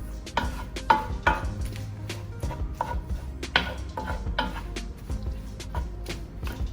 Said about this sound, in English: we're going to just stir that just until the spinach begins to wilt